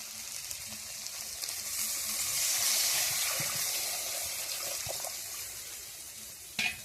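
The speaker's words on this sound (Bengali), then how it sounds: "এবারে দিয়ে দেবো জল" Water pours into a pan of lightly fried, spiced potatoes for a curry, a rushing swell over the sizzle that settles back into a steady bubbling hiss, ending with a sharp knock; no one speaks.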